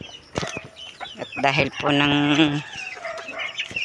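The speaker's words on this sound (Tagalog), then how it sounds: "Bibisitahin po natin yung mga manok po dito." Chickens cluck close by on a Filipino property, with repeated nasal calls and one drawn-out rising squawk, while someone speaks briefly over them.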